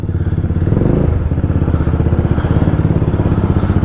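A motorcycle engine chugs loud and close in a steady, fast idle rhythm that swells briefly near the start, with faint rattling underneath.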